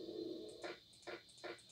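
An owl approaching in the horror game One Night at Flumpty's 2, heard as a few soft, repeated hooting calls in a quiet scene with no talk.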